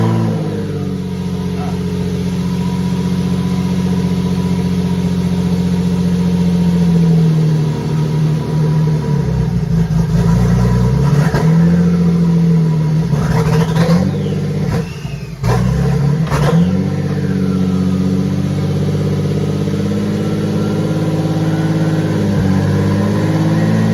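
A V6 bi-turbo rear-wheel-drive Mini idles loudly up close with a steady low hum, then blips and revs several times in the middle before settling back to a high, even idle.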